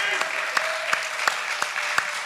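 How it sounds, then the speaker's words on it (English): An audience breaks into applause, a steady wash of many hands clapping, with a few sharper claps standing out. "Give Derek a nice round of applause, everybody."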